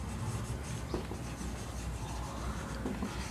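Marker or chalk scratching across a board during a physics lesson on the spherical mirror formula, a steady close rubbing stroke that carries on unbroken for a few seconds.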